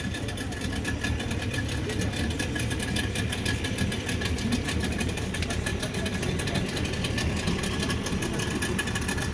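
Yamaha outboard engines on a tour boat heading to Blue Lagoon run steadily, a continuous loud droning hum with wind and water rushing, no pauses.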